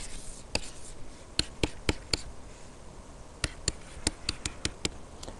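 A pen sketches a graph on paper, faint close scratches and short strokes in irregular bursts over quiet room tone, no voices.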